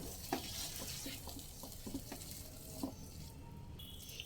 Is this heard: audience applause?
no